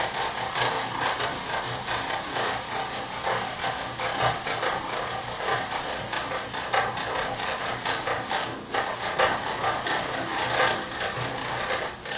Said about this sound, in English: If you find that your spiralizer isn't making proper long stringy bits of courgette.